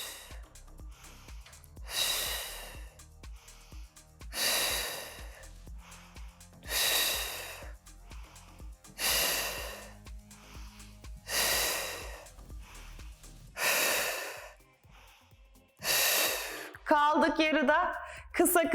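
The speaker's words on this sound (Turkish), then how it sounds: "Nefes aldım vererek arabayı itiyorum." Heavy, rhythmic breathing during a Reformer Pilates workout on the long and short box: about eight strong, close exhales spaced roughly two seconds apart, with a low machine hum underneath.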